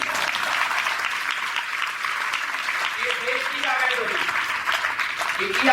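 An audience at a religious sermon gathering in a Punjab village claps steadily and densely throughout, with a faint voice rising briefly under the applause midway.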